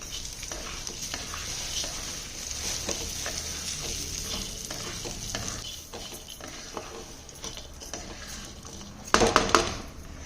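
Melon seeds and chironji dry-roasting together in a pan for gond laddoos, with steady soft sizzling and stirring scrapes throughout, then a brief louder clatter of utensils near the end.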